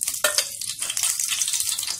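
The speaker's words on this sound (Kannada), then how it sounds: "ಸ್ವಲ್ಪ ಲೋ ಫ್ಲೇಮ್ನಲ್ಲಿ ಇಟ್ಕೊಂಡೇ ಒಗ್ಗರಣೆ ಮಾಡ್ಕೊಳ್ಳಿ" Mustard seeds and asafoetida sizzle in hot ghee over a low flame, a close, crackling fry with sharp little pops near the start and a steady spitting hiss after.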